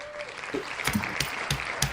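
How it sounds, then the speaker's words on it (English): Sparse, weak clapping from a single person, a few scattered claps over steady background crowd murmur and talk at an anime event night. "That's a one-man band clap."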